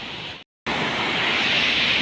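Loud, steady roar of surf and wind, broken by a brief dropout, then the rushing wash of waves continues close by.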